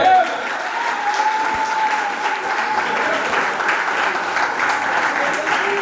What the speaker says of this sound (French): Donc acclamez le Seigneur.